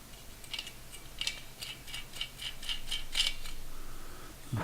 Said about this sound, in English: And then we'll just screw the nut down.